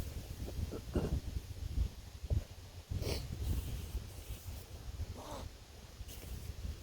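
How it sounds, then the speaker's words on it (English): A person clears their throat a few times while turned away from the microphone in a quiet room at night, giving short muffled rasping bursts over a soft background hiss. "I'm gonna clear my throat"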